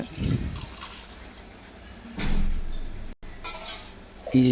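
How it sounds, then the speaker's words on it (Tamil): Water is poured from a vessel into a pot of drumstick chicken curry in a home kitchen, heard as a couple of short splashing bursts separated by quieter gaps. "நான் ரெண்டு சொம்பு தண்ணி சேர்த்துக்கிறேன் ஒரு கிலோ சிக்கனுக்கு"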